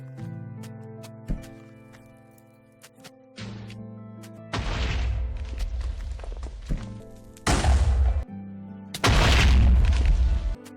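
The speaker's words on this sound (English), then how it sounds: "After exploding the village" Minecraft TNT blasts tearing apart a village on Xbox 360: several heavy, deep booms go off one after another, each a loud rumbling burst, over a steady backdrop of calm game music.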